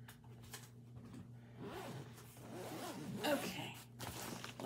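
A small zipper on the front pocket of an emergency bag being drawn open, a close, quiet zipping rasp over a low background hum.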